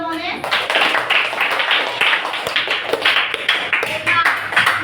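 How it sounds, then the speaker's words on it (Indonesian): A class of students claps for a classmate in a classroom: brisk, uneven clapping close by that keeps going throughout, with a voice speaking at the very start. "Tepuk tangan untuk Ramones."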